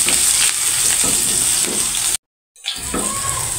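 Green chilies fry in a pan with a loud, broad, close sizzle. The hiss cuts to silence for a moment, then comes back strongly. No voices are heard.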